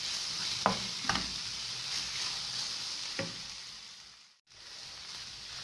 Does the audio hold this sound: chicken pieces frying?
yes